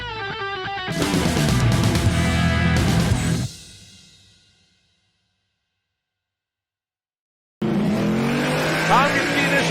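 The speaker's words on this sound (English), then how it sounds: "Tom gets the initial hit off the starting line, but Ty in the turbocharged Mustang already around him, and he will stay in front" Drag race cars, including a turbocharged Mustang, launch hard off the starting line at a Sick Summer drag racing event: loud roaring engines and a tire squeal for a few seconds, a fade to near silence, then more roaring engine noise.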